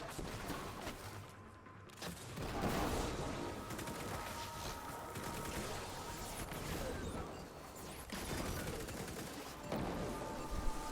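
Auto rifle gunfire in the game Destiny 2, rapid sustained bursts mixed with impacts and crashing effects, dense and continuous throughout with brief dips between volleys.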